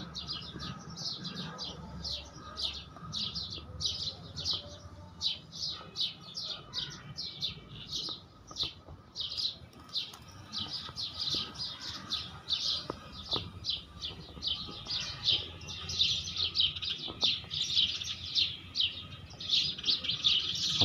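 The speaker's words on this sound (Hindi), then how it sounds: "ये सरू के पौधे के अंदर बच्चों को बिठाया हुआ है चिड़िया ने, और वहाँ पर इनको खाना दे रही है" Sparrows chirp rapidly and continuously while feeding their chicks inside a cypress plant, bright overlapping tweets in busy bursts from close by, with no talking.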